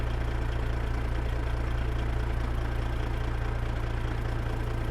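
Tractor engine idling in Farming Simulator 22, a steady low rumbling drone with a faint regular knock that holds at an even level throughout, with no voices.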